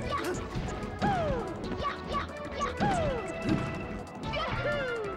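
Repeated down smash hits in Super Smash Bros. Melee during a grand finals match, sharp crashing impacts with rising whooshes recurring about every second, loud and close under game sounds and background speech.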